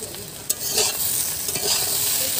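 Eggplant frying in a wok while being stirred, a steady close sizzle with soft scraping and stirring clicks throughout, no talking.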